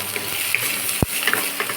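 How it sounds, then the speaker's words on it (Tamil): Oil sizzles gently in a pan as ingredients are sautéed for paneer tikka dum biryani, a steady soft hiss with a single sharp tap of a utensil partway through. "இது மேலே கொஞ்சம் ஆயில் விட்டு இது நம்ம கொஞ்சம் வதக்கிக்கலாம்."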